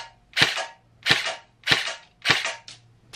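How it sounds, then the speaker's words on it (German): Four sharp shots from an HK 416C airsoft rifle, evenly spaced about half a second apart, each a loud close crack with a short tail. "Schießt auch genau dahin, wo ich hinziele."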